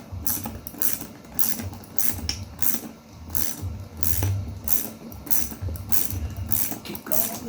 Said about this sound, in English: keep going with the ratchet